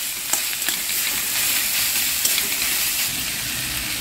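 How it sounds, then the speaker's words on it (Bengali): Grated ginger, garlic and sliced green chillies frying in a pan give off a loud, continuous, close sizzle with a few soft clicks of stirring, and no voices. "ভেজে নিচ্ছি।"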